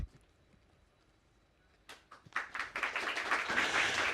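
Applause from a TV talk-show studio audience begins after a quiet stretch with a few scattered claps, then builds into dense, fairly loud clapping that lasts to the end.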